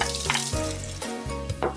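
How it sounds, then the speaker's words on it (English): Onions sauteing in oil in a pan, a continuous close sizzle with bursts of stirring and scraping. "we're gonna saute these quick"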